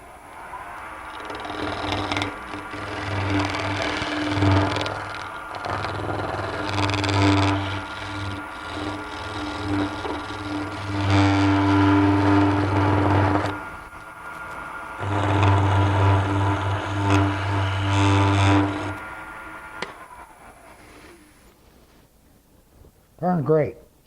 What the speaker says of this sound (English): Make sure your lathe's going the right direction.